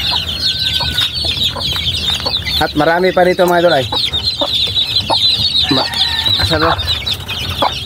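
Backyard chickens cluck and a rooster lets out a short crow amid steady insect-like background noise, with someone talking in a Filipino language nearby.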